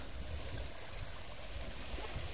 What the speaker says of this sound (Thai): นอนฟังเสียงบรรยากาศเหมือนคลื่นครับคลื่นนั้นทะเลน้ำจืด